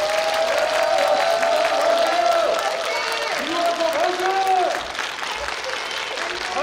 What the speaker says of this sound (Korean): 마지막으로 후보님들께 큰 박수를 치면서 이번 토론회를 마치도록 하겠습니다